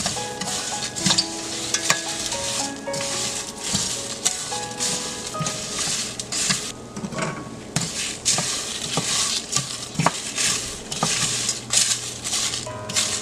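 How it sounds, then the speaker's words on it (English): Whole spices roasting with asafoetida in a dry pan for North Karnataka masala powder, a loud continuous crackling sizzle with dense scraping and rattling as the spices are stirred. "Add asafoetida, roast it for 1 to 2 minutes."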